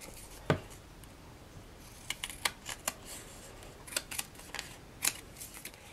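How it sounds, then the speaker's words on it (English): Sharp, quiet snips of craft scissors cutting paper and crisp paper clicks come in scattered bursts, a few close together, against a soft background hiss. "use my craft scissors to cut off the excess around the tag"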